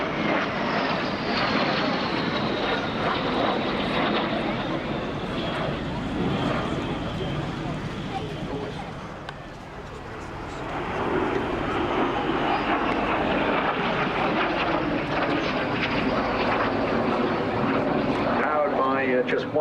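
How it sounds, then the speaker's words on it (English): An Aero L-39 Albatros jet, powered by a single Ivchenko turbofan, flies at an air show with a loud, continuous turbine roar that dips briefly midway and swells again as it banks overhead, while an announcer talks over it. "He's bending away from us at the moment, but this is John Hurrell in the L39."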